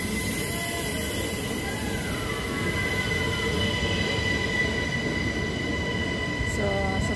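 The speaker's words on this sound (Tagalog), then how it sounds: "nandito na po ang train." A train arrives at a station, a continuous rumble of rolling rail cars with faint wheel squeals and brake whine rising near the end, heard close from the platform.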